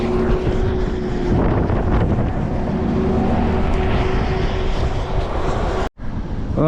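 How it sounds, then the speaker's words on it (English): Strong wind gusts roar across a microphone on a Montreal street the day after a blizzard-like snowstorm, a loud, steady buffeting rumble with no talk, broken by a brief dropout near the end. "With winds clicking at a gust of 70 clicks an hour"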